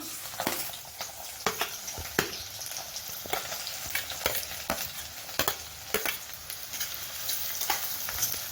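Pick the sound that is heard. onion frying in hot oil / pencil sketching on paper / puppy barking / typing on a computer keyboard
onion frying in hot oil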